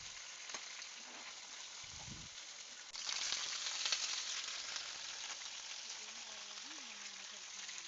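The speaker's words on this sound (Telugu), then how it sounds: "ఒక బాండీ పెట్టుకుని అందులో ఆయిల్ వేసుకుని వాటిలో ఈ పొడిగ్గా తరుక్కున్న వంకాయ ముక్కలను వేసి" Brinjal pieces fry in hot oil in a pan with a steady, fairly quiet hiss that jumps louder partway through, a few faint clinks and low background sounds mixed in.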